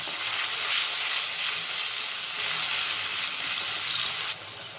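Tomato paste fries in hot oil as it is stirred, a loud, continuous sizzling hiss that holds steady close by and eases slightly near the end, with no talking.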